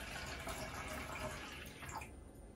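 Room temperature water is poured into a spider enclosure for a feather legged baboon spider, making a soft, steady trickling and splashing close by with no talk.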